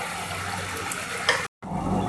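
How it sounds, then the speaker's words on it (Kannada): Paneer butter masala gravy simmering in a pan, a steady soft bubbling and sizzling hiss with small pops, close and continuous, with a brief cut to silence before the bubbling resumes. "ಗ್ರೇವಿ ಚೆನ್ನಾಗಿ ಕುದೀತಾ ಇದೆ."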